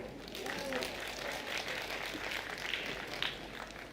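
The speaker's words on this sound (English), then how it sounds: "the crowd did clap." Crowd at a pool match, a 10-ball world championship, clapping in a soft, steady patter of applause from the audience, fairly distant, with faint talk mixed in.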